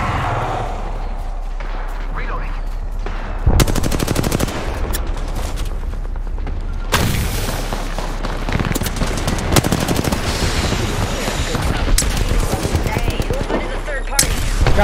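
Sustained automatic gunfire in Apex Legends, close, loud volleys with sharp onsets and dense rattling bursts stretching across the fight, with players talking quietly beneath the shooting.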